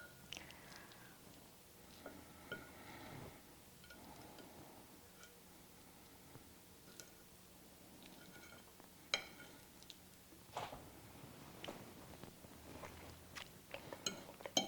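Quiet close-up chewing of a bite of taco lasagna, a beef, bean, tomato and flour tortilla casserole, with soft moist smacks and sporadic crisp clicks scattered over a hushed room.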